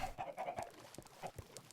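A flock of Minecraft video game chickens clucks in quick, overlapping bursts, a steady busy chatter of short calls at moderate volume with no talk.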